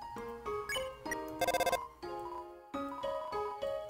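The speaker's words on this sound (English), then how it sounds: "Toriel don't answer the phone." An electronic phone ringtone chiming in the video game Undertale, a bright repeating melodic tone pattern with a rapid trill, clear and steady with no voices.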